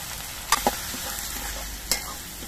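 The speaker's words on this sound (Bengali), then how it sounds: "এবার এর মধ্যে আমি দিয়ে দিচ্ছি কাঁচা লঙ্কা বাটা, একটা টমেটো পেস্ট করে রেখেছিলাম সেটা দিয়ে দিচ্ছি।" Green chilli paste and tomato paste hit hot oil in a pan, giving a steady close sizzle with a couple of quick spoon clicks early and one more near the end.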